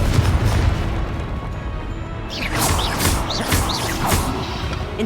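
A Confringo fire spell bursts in the game Hogwarts Legacy, giving a loud, sustained roar of blast noise, followed by sharp crackling pops as the explosion breaks apart.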